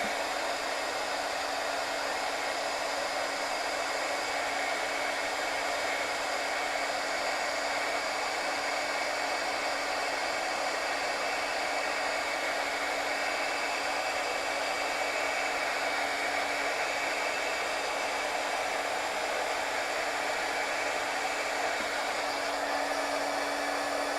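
A heat tool blows steadily over embossing powder to melt it: a continuous, even, close whooshing hum, like a hair dryer, holding the same level for about twenty-four seconds with no talking.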